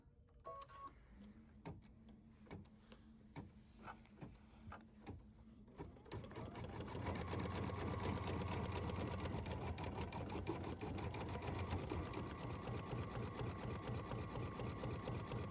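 Embroidery machine sewing a satin stitch on fabric hooped with tearaway stabilizer and a topper: a rapid, steady mechanical needle chatter with motor whir, starting with spaced taps and then running continuously and loud, with no talk.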